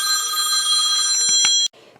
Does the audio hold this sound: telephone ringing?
yes